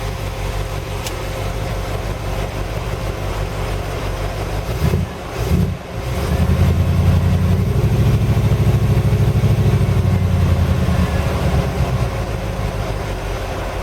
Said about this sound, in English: It's idling a little slow.